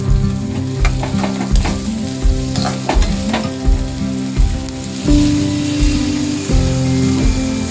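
Beans bhaji with tomatoes stirred in a hot pan, loud close sizzling under rhythmic spatula strokes that repeat about every half second, with metallic ringing tones from the pan, no talk.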